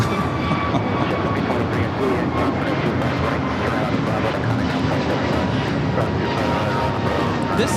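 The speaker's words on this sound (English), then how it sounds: "This is American Airlines" An American Airlines Airbus A321neo jet takes off at LAX, its loud, rough engine roar filling the scene steadily while voices talk over it.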